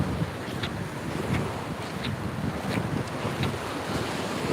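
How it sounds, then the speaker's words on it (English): Ocean waves at a New York City beach lined with jetties, steady surf washing in with heavy wind buffeting the microphone, loud and close with no talk. "They put jetties here to slow down the waves at times."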